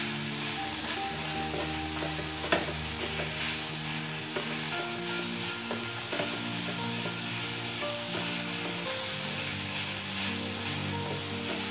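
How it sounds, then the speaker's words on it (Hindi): Chicken keema sizzles steadily in a pan while being stirred, a continuous frying hiss with occasional scraping knocks from the spoon, close and alone with no talking. "आपको पता है चिकन का कीमा बहुत जल्दी फ्राई हो जाता है"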